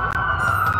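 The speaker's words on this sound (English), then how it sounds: "That's a lot of sirens for a blackout." Police sirens wail together in the Watch Dogs video game, a steady layered tone with several overlapping siren voices held close and loud throughout the short moment.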